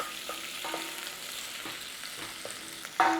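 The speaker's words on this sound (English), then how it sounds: "we're going in there with the carrot and the potato. And now we're going to just start to cook it in there together" Onions, carrots and potato fry in a pan with a continuous sizzle, broken by a few light stirring scrapes and a louder spatter at the end.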